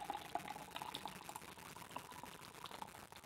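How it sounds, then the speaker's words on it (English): A can of nitrogen-infused dark lager poured hard into a glass, giving a quiet, continuous fizzing, frothing gush of liquid that runs steadily throughout. "The can says to pour it hard, so here we go."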